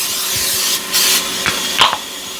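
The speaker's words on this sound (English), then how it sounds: "I'm just gonna spray my pan with some olive oil" Short bursts of olive oil spray hiss onto a large pan while cooking satay chicken, a few quick sprays close up against a faint background hiss.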